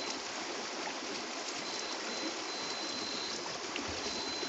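Steady broadband rush of water as a radio-controlled rock crawler car drives into a stream, continuous churning and trickling close by with no talking.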